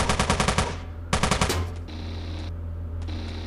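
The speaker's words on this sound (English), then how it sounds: "That's a laser gun." A laser gun in the video game Teleglitch fires in rapid bursts of sharp repeating shots, two quick volleys followed by a fading mechanical hum and a few scattered blips.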